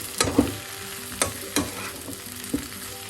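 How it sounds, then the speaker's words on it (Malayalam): Okra and potato stir-fry sizzles steadily in a pan while a spoon stirs it, leaving a few distinct scraping knocks over the continuous frying hiss, with no voices. "എല്ലാം കൂടെ വീണ്ടും നല്ലപോലെ മിക്സ് ചെയ്യുക"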